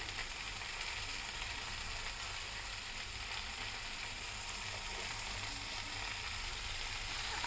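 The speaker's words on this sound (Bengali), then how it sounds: "তেলের মধ্যে দিয়ে দিয়েছি এবার সুন্দর করে ভেজে নিব" Sliced potatoes frying in hot oil for Bengali-style pahari aloo dum: a steady, faint, even sizzle with no talk and no break across the clip.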